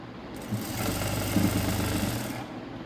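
A sewing machine stitches a puff sleeve, starting after a brief pause into a close, rapid mechanical whir with a steady rhythmic stitching pulse that runs for a couple of seconds, then stops.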